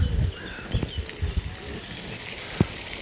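Very hot cooking oil bubbles in a pan over an outdoor open fire before carp is fried, giving a continuous hiss with irregular crackles and a few soft pops.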